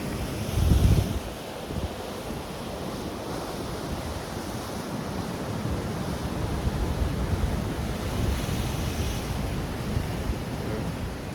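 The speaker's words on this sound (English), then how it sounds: "They're not big curlers, but they are good waves." Moderate ocean waves break and splash against the rocks of a seawall at Puerto de la Cruz, Tenerife. A heavier surge comes early, then a continuous wash of surf follows, with strong wind buffeting the microphone throughout.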